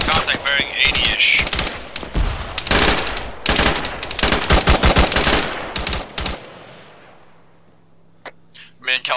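Rapid machine-gun bursts crackle in the Arma video game, dense volleys of gunfire over roughly six seconds with shouted voices mixed in, then the shooting drops away to a quiet lull broken by a few faint distant shots.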